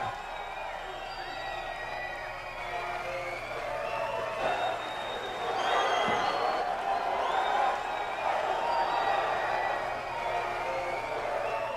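Crowd at a 2000 XPW pro wrestling event cheering and whooping for the newly crowned champion Candido, a steady roar of voices and applause with a commentator talking over it.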